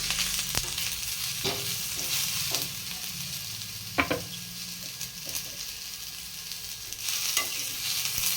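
Steady sizzling of onion and dried coconut roasting in a pan, with occasional scraping and stirring knocks from a utensil, fairly quiet and continuous.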